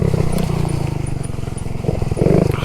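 Small Honda Z50R minibike engine putters steadily up close while ridden down a mountainside, a low buzzing thrum with uneven pulsing that swells slightly near the end.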